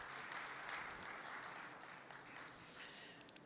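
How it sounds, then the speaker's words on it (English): Faint, steady applause from an audience at a FIEO export-import benefits evening for a CGI committee and team, a soft dense patter that gently tapers over a few seconds. "I would like to give a special round of applause to the committee as well as the entire CGI team"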